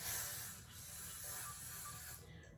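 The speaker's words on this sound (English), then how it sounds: "you're just going to do another layer of the spray." An aerosol wig adhesive spray hisses in a steady continuous burst close to the microphone for a couple of seconds, quiet and without talk.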